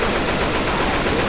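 Dense, continuous gunfire fills a fight in the Left 4 Dead 2 video game, a steady rattling barrage with no pauses and no voices.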